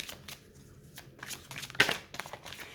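Tarot cards being shuffled and drawn, soft close papery riffles and slides in short bursts, ending in a crisper snap as a single card is pulled, quiet with no talk.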